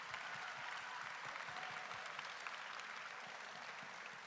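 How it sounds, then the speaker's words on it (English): Crowd applause at a BEST remote control robot competition game day, saluting teams, coaches, sponsors and volunteers: a faint, dense, continuous patter of many hands heard from afar, holding evenly for the whole stretch. "Let's give them a round of applause."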